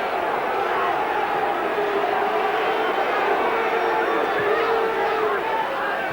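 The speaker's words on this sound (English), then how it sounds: "Incurring the wrath of the home crowd for awarding the throw-in in Hibernian's favour." A home football crowd at Kilmarnock jeers a referee's throw-in decision, a loud, continuous mass of shouting and rumbling voices from a packed stadium, sustained throughout with no letup.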